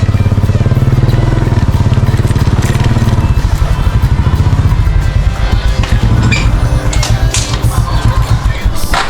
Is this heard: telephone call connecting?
no